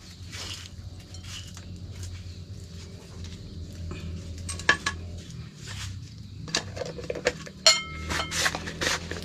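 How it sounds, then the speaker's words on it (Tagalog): Eggs being beaten for frying. A utensil clinks and taps against the bowl in an irregular rhythm, close and moderately loud, with sharper clinks near the end. "At ngayon atin muna ang babatihin yung ating itlog na pamprito"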